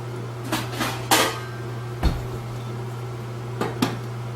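A lid clanks onto a pot of homemade peach syrup on the stove, a few sharp metallic knocks and rattles over a steady low hum, with no talking.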